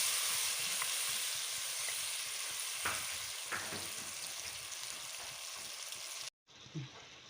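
Chopped tomatoes fry with onions and spices, including paprika, for a meatball biryani, making a dense, steady sizzle that fades slightly over time before cutting off abruptly, followed by a faint short knock.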